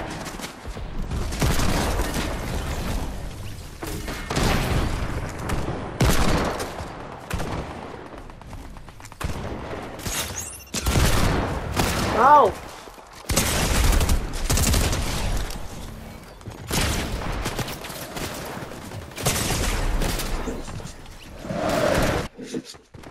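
Pistol gunfire in a video game crackles in dense, repeated bursts of close, loud shots, broken by brief pauses and mixed with the game's rumbling effects.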